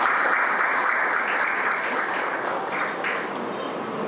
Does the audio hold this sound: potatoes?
no